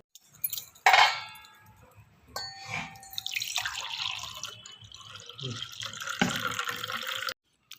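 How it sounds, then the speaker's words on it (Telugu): Close, wet liquid sounds of soaked chia seeds being stirred into sugar water in a container, with a sharp clink early on and light splashing throughout. "వీటిని అయితే పంచదార వాటర్లో అయితే కలుపుకుంటున్నానండి"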